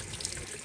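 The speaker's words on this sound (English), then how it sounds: "let's put some water in here" Water runs into a container of hibiscus seed pods in a short, steady splashing rush without talk.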